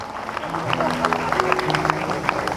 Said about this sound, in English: A huge round of applause for Astrid Life Sciences